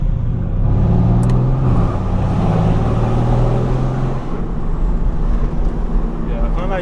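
Mercedes-AMG cars rumble deep and loud through central London, a steady low engine drone with a brief rise in revs, heard from close by with traffic noise around and voices talking now and then.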